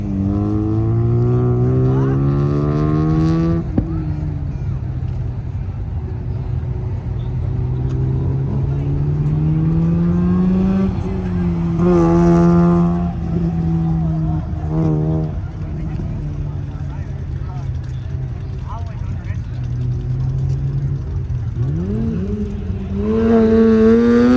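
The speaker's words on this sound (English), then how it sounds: "Smith lined up in the blue RX-8." Blue Mazda RX-8 race car at an autocross event, its rotary engine droning loud and high with rising, falling revs through gear changes, close by for the whole stretch, a voice talking over it.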